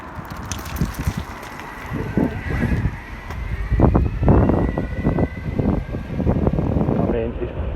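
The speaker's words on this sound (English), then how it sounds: "Probably going to be too windy to make the video" Wind buffets a microphone on a rider cycling along a park and beach front in Bognor Regis, producing heavy, gusting low rumbles that rise and fall under a man's speech.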